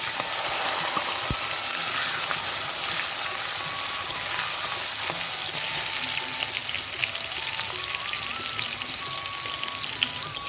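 Small cut potato pieces fry in hot oil with whole cloves, a dense, steady sizzle that holds close and loud throughout with faint crackles, no voices.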